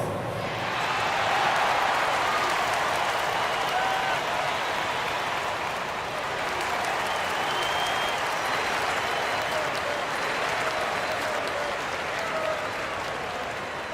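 A large crowd at a sports game applauds and cheers continuously, a dense wash of clapping with scattered shouts and whistles filling the space.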